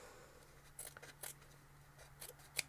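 Scissors cut quilt fabric in a few quiet, separate snips spaced across a couple of seconds, with the blades closing in short crisp clicks. The snips sound close but soft, with no talk and only faint room hum behind them.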